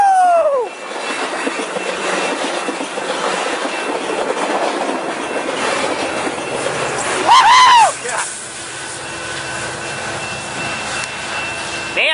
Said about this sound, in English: There goes that Surfliner North Ocean set.